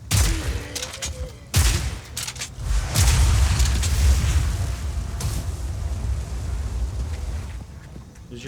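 Fire spell blasts in the video game Path of Exile 2: repeated booming bursts and crackling explosions, loud and dense, overlapping one another in quick succession with a sustained roar between impacts.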